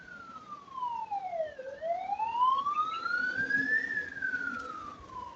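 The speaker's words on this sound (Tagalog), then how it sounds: "Ambulance. Ano kaya yung ambulansya na yun?" A wailing ambulance siren sweeps down and up in long slow glides, moderately distant against faint outdoor background noise by the seaside.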